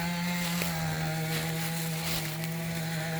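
A steady, droning engine buzz from a power saw cutting trails outdoors in winter runs nearby without pause, loud and unchanging throughout.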